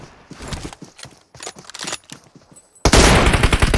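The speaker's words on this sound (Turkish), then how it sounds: "Abi adam yüzüne doğru M24 yedi ölmedi lan tek seferde." A short volley of gunfire from the shooter game PUBG on the Livik map, including an M24 sniper rifle: several sharp reports and clattering bursts, then a sudden loud, dense blast of firing at the end.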